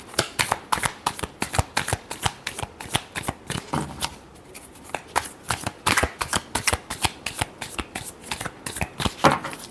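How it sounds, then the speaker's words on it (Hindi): Tarot cards are shuffled in repeated quick riffling bursts, close and steady throughout, with a short pause near the middle and no voices. "last shuffle"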